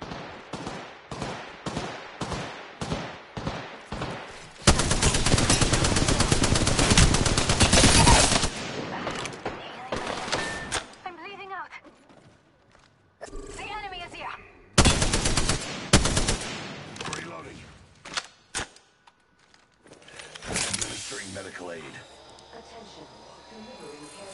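Automatic gunfire in the video game Apex Legends, with rapid rhythmic shots early on, then sustained loud bursts of fire, a pause, and another heavy burst, with game speech and effects in between.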